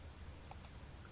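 Two quick, faint computer mouse clicks sound close together against a quiet low hum of room noise.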